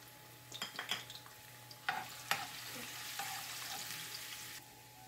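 Garlic and ginger fry in hot oil with a soft steady sizzle, broken by scraping stirs and clinks of a utensil against the pan, close but quiet.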